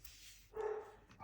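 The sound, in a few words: dogs barking in the background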